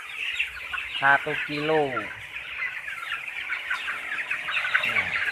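Broiler chickens about twenty days old cluck and squawk in a poultry house, with a loud nearby call rising and falling near the start and a steady mass of flock chatter throughout, while someone talks over them.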